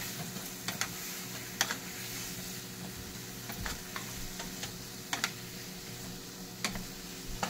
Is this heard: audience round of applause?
no